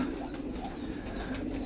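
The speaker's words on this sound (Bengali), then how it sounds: "লাহোর কবুতরের পার্ক" Lahore pigeons cooing in a pigeon park, a steady low throaty coo running continuously and close by, with faint bird chirps above.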